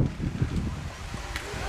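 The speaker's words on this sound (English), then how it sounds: "It's a bit of a windy day here at Barnhart Stadium." Wind blows across Barnhart Stadium during a 7th grade football game, making a continuous low buffeting rumble on the microphone, with faint voices underneath.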